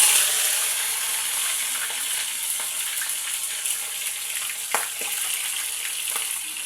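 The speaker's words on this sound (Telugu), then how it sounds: "ఆ చికెన్ ఏం చేద్దామంటే ఈ నూనెలో డీప్ ఫ్రై చేసుకోవాలండి." Boiled chicken deep-frying in oil for chicken pickle, a steady bright sizzle close by with occasional pops and crackles, no speech.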